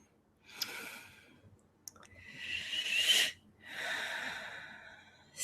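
A person takes slow, deep audible breaths, airy inhales and exhales close to the microphone in three long swells separated by brief pauses, alone without talking.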